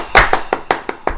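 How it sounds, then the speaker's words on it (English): Sparse claps ring out in a small audience at a quiz show, six sharp distinct hand claps spaced unevenly, close and fairly loud with no talking. "Can we have a round of applause for Jason, please?"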